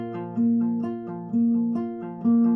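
A fingerstyle acoustic guitar pattern for a song, played alone: a steady plucked figure with a sustained higher note struck three times, each pluck ringing close and clear.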